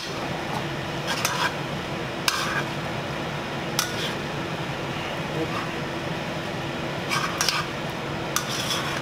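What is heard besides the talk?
mixing egg into hot pasta in a pan for carbonara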